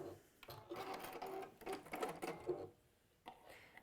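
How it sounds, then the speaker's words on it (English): A sewing machine stitches a Tilda bird cushion in a few short quiet bursts of rapid whirring, stopping and starting, with a brief faint run at the end. "foot up, swivel around, and then just sew across to the end there"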